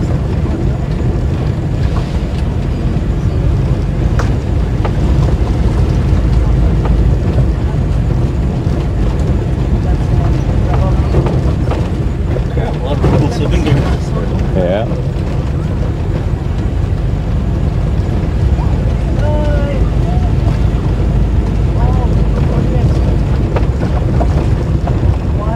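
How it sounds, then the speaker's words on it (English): A big boat passes on the water off Sarteneja, a continuous low rumble mixed with heavy wind buffeting the microphone, steady and fairly loud throughout. "That's a big boat there."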